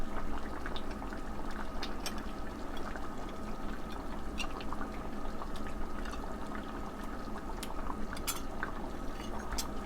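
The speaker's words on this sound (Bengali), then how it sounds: "তো আমি এখন টমেটো ছেড়ে দেব" Tomatoes dropped into a simmering chicken curry with long squash and potatoes, heard as continuous bubbling and sizzling with scattered spoon and pot clinks over it.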